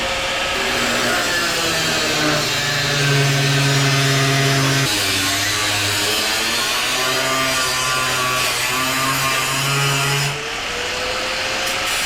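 A grinder works steadily down the sides of a Scout's bedside panel, a loud, close, continuous whine whose pitch shifts as the tool bears against the metal and then eases off.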